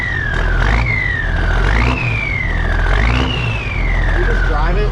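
Military M35A deuce-and-a-half truck with a loud turbo and no muffler, its engine roaring close by while a shrill turbo whine repeatedly climbs and falls as the throttle is worked, about four surges over several seconds.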